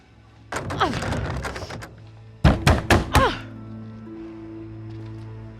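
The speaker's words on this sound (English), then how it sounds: "I can hear you banging on the door" Someone pounds on a door in several close, heavy bursts: a longer run of knocking, a pause, then four loud separate thuds, with a low hum beneath and a faint tone continuing afterward.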